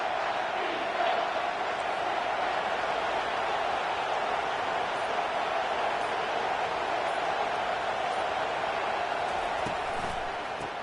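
Steady, dense stadium crowd roar from the NCAA 25 college football video game, loud and continuous with no break, no commentary voice over it.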